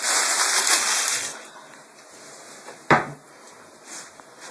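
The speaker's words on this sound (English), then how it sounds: "Wash all the cookie cutters. Make sure they're all shiny." Cookie cutters being washed in running water, a rushing, splashing flow that eases off, then a sudden clatter and more gentle splashes nearby.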